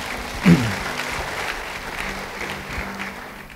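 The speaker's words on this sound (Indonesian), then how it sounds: "beri tepuk tangan bagi dia" A church congregation breaks into applause during a sermon, with a sharp burst of clapping near the start that settles into steady, fairly loud clapping filling the room.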